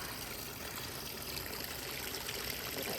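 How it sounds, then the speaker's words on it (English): A tiny waterfall on Heybrook Ridge Trail near Index, Washington trickles in a steady, soft, even wash of flowing water, heard close and alone. "We found another even tinier waterfall."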